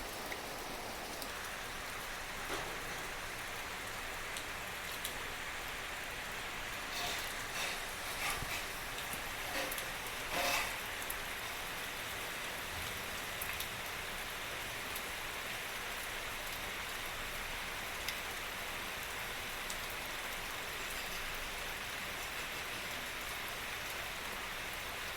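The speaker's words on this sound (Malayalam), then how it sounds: "നല്ല മഴയാട്ടോ, രാവിലെ തന്നെ കാണിച്ചു തരാം." Heavy rain pours down steadily outside a house in Kerala, a soft, continuous wash of drops at moderate distance with a few slightly louder patters, and no voices.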